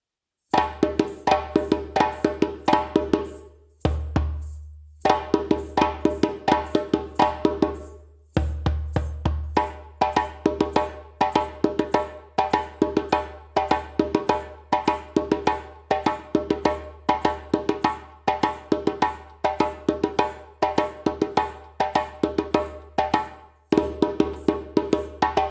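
A djembe rhythm played with its second accompaniment part, several hand drums layered in a steady repeating groove, with sharp slaps and deep bass tones. The ensemble drops out briefly twice near the start before resuming and carrying on to the end.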